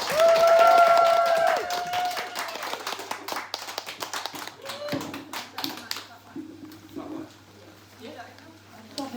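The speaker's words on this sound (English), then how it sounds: "please, can you all put your hands together? Please, stamp your feet, clap your hands" Stand-up comedy audience at a Pride Month show applauding and cheering as a comedian takes the stage, dense clapping loud at first then thinning and fading as a voice begins talking.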